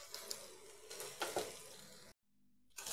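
Ridge gourd pieces frying and being stirred in hot spiced oil, giving a steady close sizzle with light scraping. The sound cuts out abruptly partway through, then the sizzle returns.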